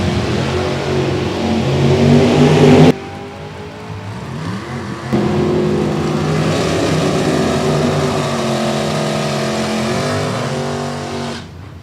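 A Firebird and a Mustang drag racing, engines roaring loud and close as they rev and launch hard, with a sharp cut midway and then sustained high-revving acceleration fading out.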